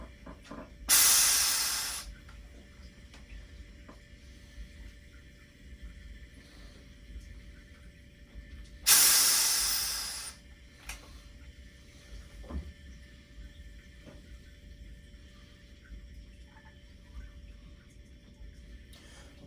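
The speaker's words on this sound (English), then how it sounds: "you can hear the CO2 transfer kind of slowing down a little bit" CO2 gas hisses in two loud, sharp bursts, each tapering off over about a second during a pressure transfer into a Fermzilla fermenter, with a low steady hum between them.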